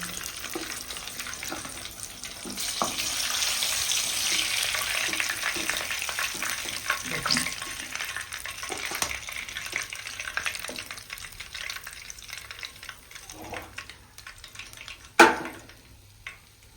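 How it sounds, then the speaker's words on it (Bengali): Pieces of a large katla fish fry in oil, a broad hissing sizzle that swells early then settles into softer crackling, with an occasional clank of a pan or utensil. "বাকি মাছটা আমি একইভাবে ভেজে নেব।"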